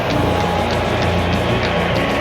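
Electric VESC-powered bike speeding along a beach, a steady broadband whoosh of motor and wind rushing close by with a faint repeating high tick, continuous and loud without talk.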